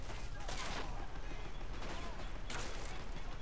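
Gunfire and explosions in a desert battle in the Men of War: Assault Squad 2 video game, a continuous rattle of shots with a few louder bursts of blasts, heard fairly faint throughout.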